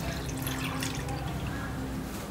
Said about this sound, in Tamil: இந்த நாப் எடுத்து விட்டுட்டீங்க அப்படின்னா தண்ணி எல்லாம் வெளியில வந்துடும்